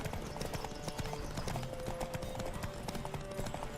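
Hooves of a horse galloping in The Witcher 3 beat a rapid, continuous rhythm, loud and close, with game sounds in the background.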